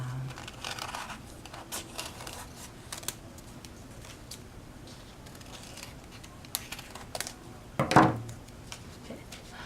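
Scissors snipping through folded tissue paper, soft scattered cuts and paper rustling close by, with a louder crinkling snip near the end.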